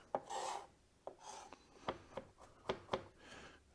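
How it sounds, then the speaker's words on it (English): Knife blade scraping chopped garlic across a cutting board, several close rasping strokes and quick scrapes at an irregular pace, fairly faint with no talking. "I'm going to scrape it together again. And walk my way through the garlic one more time."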